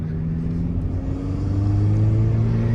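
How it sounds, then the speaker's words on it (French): A car's engine intake drones steadily while the car is being driven, a low, continuous rumble with a rising whir as the engine pulls. No one speaks over it. "on entend bien l'admi et tout, hein, c'est dingue"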